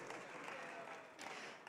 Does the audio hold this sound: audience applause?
yes